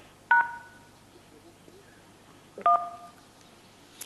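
Two short telephone dialing tones sound a few seconds apart as a call is placed back, each a clean, close beep over a quiet background.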